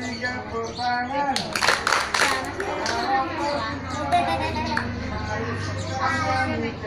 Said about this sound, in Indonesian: Kalau kau suka, tepuk tangan.